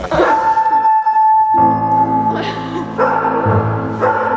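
A dog lets out a loud, close, sustained howl in long wavering tones that shift pitch in several drawn-out stretches.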